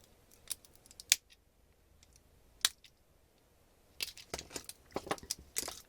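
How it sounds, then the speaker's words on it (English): Scissors snip thin nickel strips from 18650 battery cells, a few isolated crisp cuts followed by a quicker cluster of small clicks and snips, quiet and close. "these little strips are actually made of nickel, so you can use any pair of scissors"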